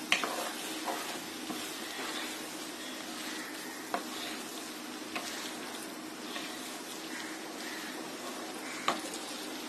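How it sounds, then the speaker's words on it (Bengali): Pasta stirred in a pan with vegetables and tomato puree, a soft steady sizzle under faint scraping strokes and a few light clicks of the spoon against the pan, fairly quiet throughout. "পাস্তাটাকে আরো 5-6 মিনিট একটু নেড়ে চেড়ে নামিয়ে ফেলব।"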